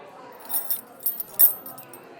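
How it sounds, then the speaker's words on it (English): A ring of room keys jangles in a cozy bar setting, several light metallic clinking bursts close by, soft and brief against a quiet background. "Those are the keys to room 13."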